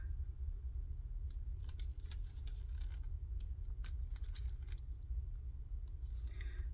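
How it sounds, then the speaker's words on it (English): Scissors trim excess paper for a junk journal piece, giving a quiet run of crisp, close snips and rustles over a low steady hum, no one speaking. "And then I'm just going to cut off the excess."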